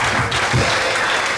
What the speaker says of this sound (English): give a mighty clap for yourself